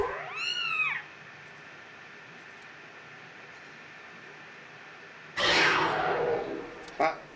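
A small cat meows in the video game Zelda Skyward Sword HD, one short rising-and-falling mew at the start, followed by quiet game ambience and a later burst of rushing noise.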